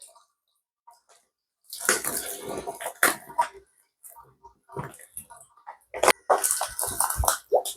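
A bag lowered into a saltwater pond gives close, irregular sloshing and splashing in two main bursts, with a few small drips and quiet movement between them.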